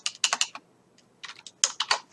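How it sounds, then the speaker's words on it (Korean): Keys pressed on a computer keyboard during Excel formula entry, heard as two quick bursts of crisp, close clicks separated by a short pause, with no talk. "F4키 눌러서 절대값 표시해준다."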